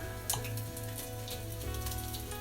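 A little butter sizzling in a hot frying pan while a homemade Egg McMuffin-style breakfast is cooked; a soft, steady sizzle runs throughout beneath a constant low hum, with no talking.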